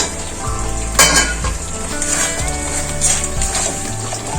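Drumsticks (sajne data) tossed into a pan of well-fried spice masala with a little sugar, sizzling steadily with a burst at the moment they go in, plus scraping and clinks of a utensil against the pan.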